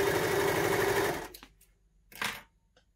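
A Baby Lock Victory serger stitches fine organza fabric with a steady, fast motor whir that stops after about a second, followed by a short burst of machine noise and faint clicks.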